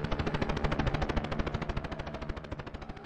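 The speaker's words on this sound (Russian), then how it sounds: "Выстрелы? Что, черт побери, здесь происходит?" Rapid automatic gunfire rattles continuously for a few seconds in the dinosaur horror game Tempus Triad, dense and loud, with sharp repeated bursts typical of game weapon effects.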